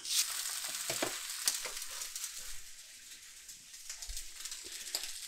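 Eggs sizzle and spit in a Lodge cast iron skillet just after being flipped, a steady close frying hiss with scattered crackles and a couple of soft bumps, no talking.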